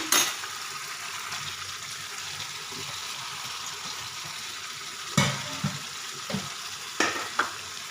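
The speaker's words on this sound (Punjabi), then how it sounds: "ਤੜਕੇ ਨੇ ਆਇਲ ਛੱਡ ਦਿੱਤਾ ਤਾਂ ਹੁਣ ਇਹਦੇ ਚ ਪਾ ਲਾਂਗੇ ਅਰਬੀ" Taro root (arbi) drops into hot oil for a tadka while cooking a Himachali-style gravy, giving a steady close sizzle with several sharper bursts and scrapes as pieces land and get stirred.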